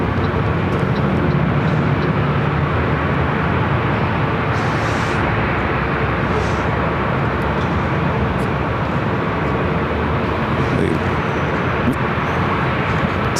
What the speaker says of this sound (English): Delta flight heading to Miami, 737-900 ER.